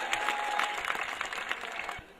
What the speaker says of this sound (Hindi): तालियां बजाकर आप उसका स्वागत करें